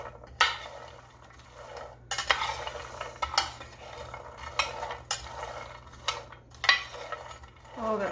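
A utensil stirs roasted cashews around a hot pan, giving intermittent scraping and clinking bursts close by, with quiet pauses between strokes.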